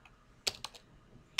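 Several crisp keystrokes on a computer keyboard, a quick cluster of three clicks followed by a pause and one more key press, close and clear in a quiet room.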